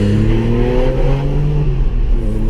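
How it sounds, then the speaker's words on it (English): A Porsche 911 (996) Carrera 2 switchable sports exhaust rumbles steadily at high revs, a loud, continuous engine drone with shifting pitch and no voices. "Porsche Sports Exhaust, which is a switchable system"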